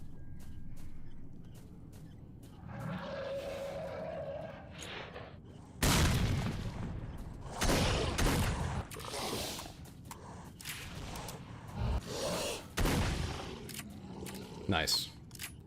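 Video game combat with shotgun blasts and a grenade: sharp, heavy booms and bursts come in clusters over a steady low rumble, with someone talking in between.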